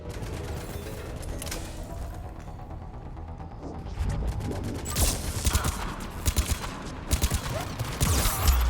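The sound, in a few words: turret gunfire in Mass Effect 3 video game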